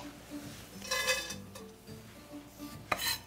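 A few soft clatters and a brief scrape as soup ingredients, including shrimp, drop into a metal pot, with one sharper clink near the end.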